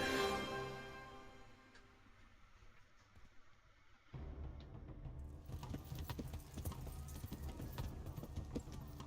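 Horse hooves clip-clopping in the video game Kingdom Come, a steady rapid trotting rhythm that starts partway through and continues under game ambience, moderately loud and close.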